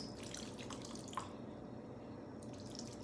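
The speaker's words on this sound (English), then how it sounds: "I'm just gonna pour how much water I think I need." Water poured from a container into a kitchen dish while making meatloaf, a brief light trickle and splash close by, fairly faint against a quiet room.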